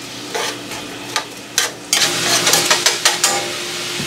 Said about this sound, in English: we're going to go ahead and fry our onion and green pepper up in here